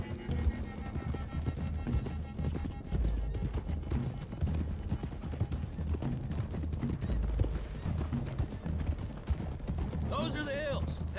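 Horses' hooves clip-clop steadily on a road in the Red Dead Redemption 2 video game as a group rides toward hills, with tack rattling, an occasional whinny and a low rumbling score beneath.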